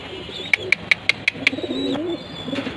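A silver running pigeon pair coos nearby: a quick series of six sharp clicky pulses, then a soft rolling coo that rises and fades, with another brief coo near the end, with no voices.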